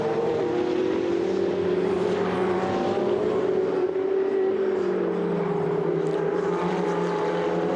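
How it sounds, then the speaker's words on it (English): Ferrari Challenge race cars at the Valencia circuit drone steadily at high revs, one engine note holding and then shifting pitch as cars pass at a distance, a continuous loud engine roar with no talking. "find a way past Tanny Hanna, Middle East-based driver who races in the European Ferrari Challenge."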